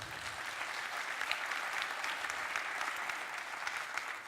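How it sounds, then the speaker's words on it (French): Steady applause from an audience at a business awards ceremony, a dense wash of many hands clapping at once, fairly distant and continuous without pauses. "On peut l'applaudir"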